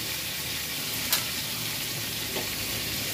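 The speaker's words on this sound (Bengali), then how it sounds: "রিফাইনে ভাজছি" Paneer slices fry in refined oil with a dense, continuous sizzle, close and loud, broken by a couple of faint scrapes.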